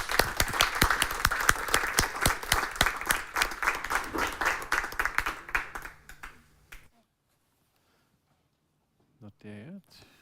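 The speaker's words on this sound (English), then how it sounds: "So please give Herwig a warm round of applause." Audience applause for a speaker introduced at an ethics talk on gene editing and animal welfare, a dense round of clapping for about six seconds that fades out, then silence and a brief voice near the end.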